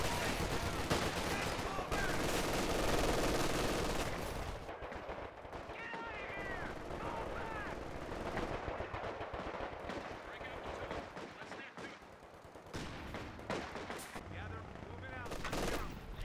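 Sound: machine gun fire, from a video game

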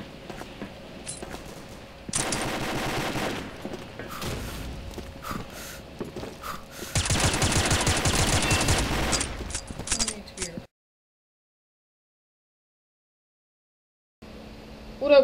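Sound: M4A1 SOPMOD rifle gunfire in Combat Arms video game

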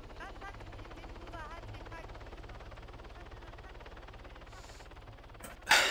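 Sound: helicopter taking off, from video game Arma 3

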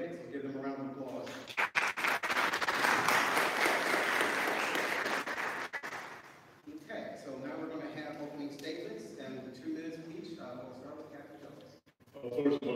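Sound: audience applause for the candidates

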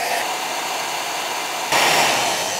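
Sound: heat gun blowing on battery

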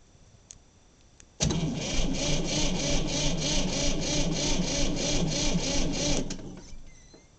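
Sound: car engine cranking in a failed cold start, possible bad glow plug

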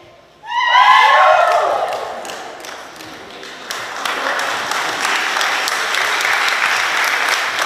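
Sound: audience applause after performance

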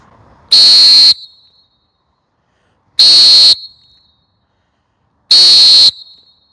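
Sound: coach or referee whistle blown three times

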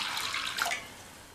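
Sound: pouring a cup of water into kadai with soaked moong dal

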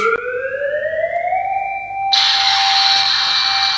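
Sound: toy police car siren

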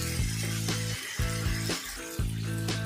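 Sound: chicken being sautéed with masala in a pan

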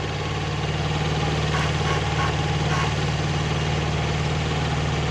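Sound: small two-cylinder tractor engine idling

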